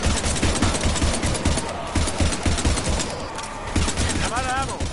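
Rapid, loud automatic gunfire crackles in near-continuous bursts during a firefight against husks in a Mass Effect-style shooter game, with a shouted voice briefly over the shots.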